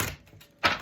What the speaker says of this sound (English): one quick shuffle and we'll get you some fractal energy